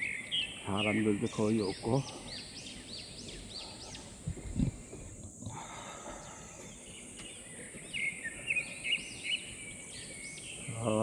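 Birds chirp and sing in bursts along a quiet mountain trail on Bongwhasan, near and fairly clear, with someone speaking Korean over them.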